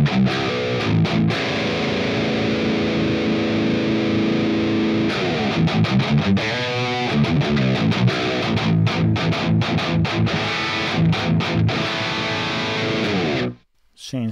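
Distorted electric guitar through the Attacker amp in the PolyChrome DSP McRocklin Suite: held gritty chords giving way to choppy riffing, loud and steady, with a brief silent gap near the end.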